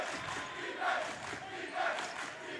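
A crowd at a high school district playoff basketball game between Skyline and Glacier Peak cheers and shouts in a steady, fairly distant roar that swells twice.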